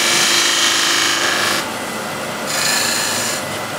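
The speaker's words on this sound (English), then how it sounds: "And now with the spindle gouge, make a little bead here." Spindle gouge shaping a small bead on a wooden bowl turning on a lathe, a close, steady rasping hiss that eases off for a moment and then swells again over a few seconds.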